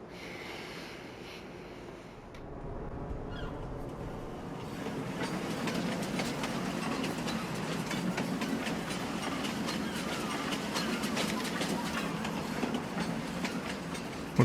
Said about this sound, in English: Okay, well, the train came,